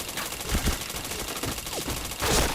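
Rapid bursts of gunfire in a first-person shooter video game, clustered shots and short automatic volleys over a busy background, fairly close and loud, no speech.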